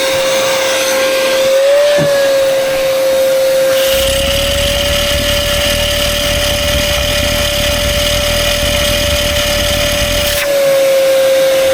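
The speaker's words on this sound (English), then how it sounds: "Just keep pumping it while I run the shop vac" Shop vac sucking fuel from a Mack semi truck, a loud steady high whine that holds throughout, with a deeper gurgling rush joining in the middle section before dropping away.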